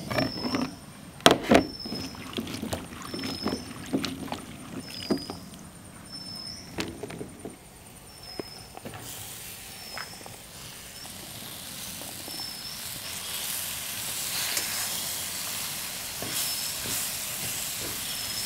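Chopped brinjal goes into a hot pan for a Kerala-style dish and is stirred, with scattered utensil clatter and scrapes at first, then a rising, steady hiss of sizzling in the second half; no speech.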